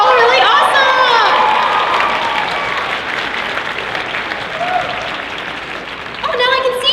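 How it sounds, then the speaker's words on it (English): Audience at a convention masquerade event claps and cheers steadily for about seven seconds, a dense wash of applause with scattered whoops and shouts, while a host's voice comes in over it near the start and end. "clap again for all those amazing people in all those skits"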